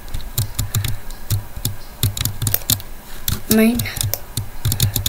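Rapid mouse clicks, heard as crisp bursts of close clicking during a Terraria game session, with brief talk partway through.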